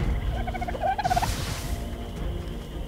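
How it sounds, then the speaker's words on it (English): A small chicken-like dinosaur in Ark gives a short warbling, gobbling call, fairly close and clear, followed by a breathy rush of noise against background game ambience. "Back off, you stupid chicken."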